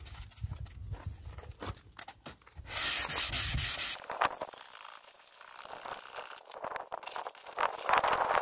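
Close, dry scratching rasp of 400-grit sandpaper rubbed by hand over a car headlight lens during restoration, in uneven back-and-forth strokes with a brief louder burst of friction.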